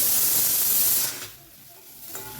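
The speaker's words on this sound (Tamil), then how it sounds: "அந்த இடித்து வச்சதும் கருவேப்பிலை ஒரு 4 போட்டுக்கிறேன்" Curry leaves and crushed spices dropped into hot oil give a loud hissing sizzle that dies down after about a second to a faint crackle, with no voices.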